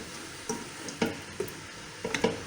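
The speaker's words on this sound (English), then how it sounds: "And now we will fry the carrot a little bit" Carrots frying in melted butter in a pot give a soft low sizzle, broken by a few irregular clinks and scrapes of stirring.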